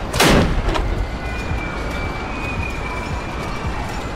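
A single sharp sniper rifle shot cracks out loudly in the video game Sniper Killer, its echo tailing off into a steady rumbling background of game ambience.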